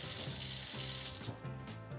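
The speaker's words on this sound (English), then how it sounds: "The reason you run cold water over pasta is because you don't want it to continue to cook." A kitchen tap pours cold water over freshly drained pasta in a colander, a steady close hiss and splash that changes slightly as the stream shifts.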